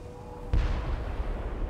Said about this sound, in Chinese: 可这炮声